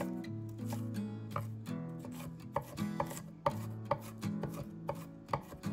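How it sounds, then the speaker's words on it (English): A knife dices an onion on a cutting board, the blade landing in a quick, steady run of sharp chops over a faint, continuous low hum, with no talking. "you just want to do a nice even dice here. You're not looking for anything fancy, just a nice diced up onion."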